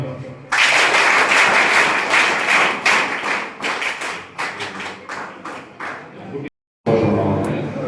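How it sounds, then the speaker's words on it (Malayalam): A group of SPC student cadets at a school in Pulingome claps in a special rhythmic pattern, loud and close, with bursts of claps and thumps that thin into spaced beats before a short silence and a final round. "എസ് പി സി കുട്ടികളുടെ കൈയടി എന്ന് പറഞ്ഞ പ്രത്യേക ഒരു താളമാണ്"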